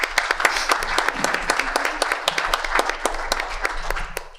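Audience applause at a school board of education meeting honoring elementary students, steady clapping from a roomful of people lasting several seconds, fairly close and even, with a few sharper individual claps standing out.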